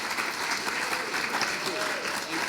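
Indoor audience at a UK property investing event applauds and cheers a speaker being welcomed on stage, dense steady clapping with whoops filling the whole moment.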